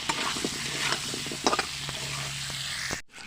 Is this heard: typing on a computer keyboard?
no